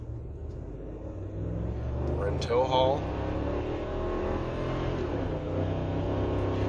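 A Ford 7.3 gas pickup truck in tow/haul mode, towing a trailer with a crane boom, accelerates hard, its engine swelling into a loud, deep rising rumble as someone speaks briefly over it.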